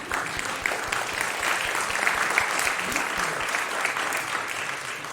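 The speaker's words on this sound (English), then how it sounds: "Give them another round of applause." A church congregation at a Sunday service applauds, dense steady clapping filling the room at close range for several seconds without pause.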